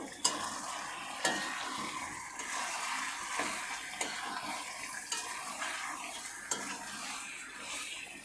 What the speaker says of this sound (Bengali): লবণটা দিয়ে আবার নেড়ে চেড়ে নেব।